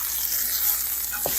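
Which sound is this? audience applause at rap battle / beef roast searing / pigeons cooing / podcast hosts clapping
beef roast searing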